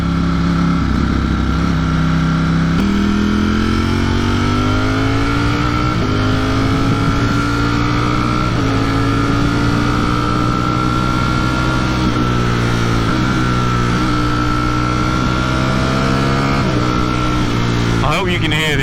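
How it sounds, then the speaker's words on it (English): A 2020 Ducati Streetfighter V4 exhaust drones steadily under acceleration through a helmet microphone, with rising and shifting engine tones and gear changes, loud and continuous for the whole ride. "You can hear the exhaust through this shitty helmet mic."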